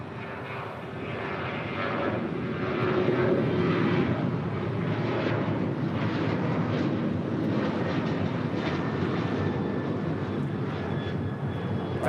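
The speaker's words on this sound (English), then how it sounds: "That was Alaska Airlines 212 departing to Loretto on a 737-900 ER in the One World livery." An Alaska Airlines Boeing 737-900ER in oneworld livery departs LAX, a loud, steady broadband jet roar holding for the whole stretch, swelling slightly early on as the aircraft climbs away.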